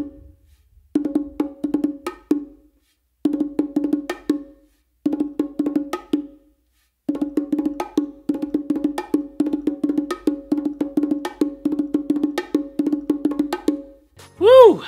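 Bongos played in a combination pattern, close and alone: bursts of quick, crisp drum strokes separated by short pauses, then a longer continuous run of steady hits, ending in a brief rising ringing tone.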